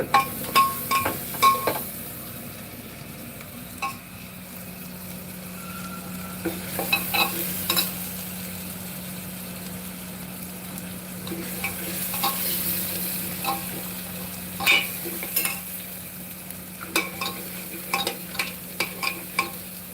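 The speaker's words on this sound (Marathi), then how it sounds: "त्यानंतर थोडीशी आलं लसूणची पेस्ट टाकते मी." Ginger garlic paste frying in a pan while being stirred, a soft steady sizzle under clusters of scraping and clinking spoon strokes against the pan, close by with no voices.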